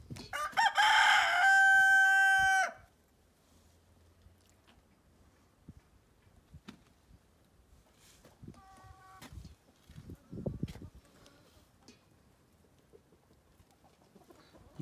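A rooster lets out one loud crow at the start, and then black chickens in a coop give faint, scattered clucks against a quiet background.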